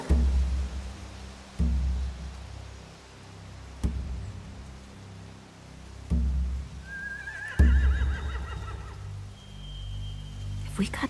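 Horses whinnying in The Walking Dead video game, a shrill neigh rising near the middle over a low ambient backdrop with occasional dull thuds and game sounds.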